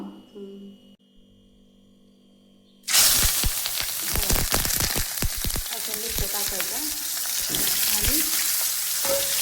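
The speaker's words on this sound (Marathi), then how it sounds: "हे तेल थोडं थंड झालं ना मग आपण मिरच्या टाकून घेऊ" Green chillies dropped into hot oil set off a sudden loud sizzle after a quiet, humming start, with crackling pops and spattering that continue steadily close by.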